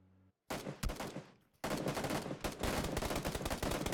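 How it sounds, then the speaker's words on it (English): Rapid bursts of gunfire in a PUBG battle, loud and close, starting after a brief quiet lull and returning as sustained automatic fire with dense, overlapping shots. "wondering where these shots are coming from"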